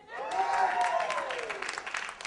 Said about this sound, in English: Round of applause if you are not Irish and still celebrate St. Patrick's Day